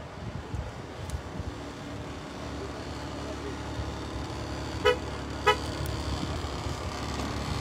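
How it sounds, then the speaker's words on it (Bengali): Car lock confirmation beeps in a parking area, two short faint chirps in quick succession rising above steady outdoor ambience and light wind. "গাড়ি যে লক করলে আওয়াজও দেয়"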